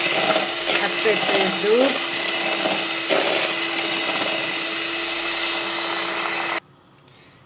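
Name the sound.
electric hand mixer mixing sugar, butter and oil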